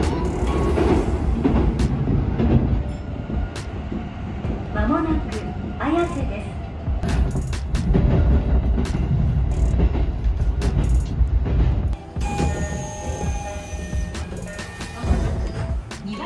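A Tokyo subway train rumbles along the rails with a steady low roar and occasional clacks, while a voice speaks in Thai over the noise.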